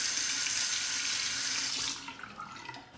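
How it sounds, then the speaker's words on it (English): Cold tap water streams steadily over a Razorine Flatboy safety razor for about two seconds, then cuts off, leaving faint drips and handling sounds. "Temper the razor under the cold water."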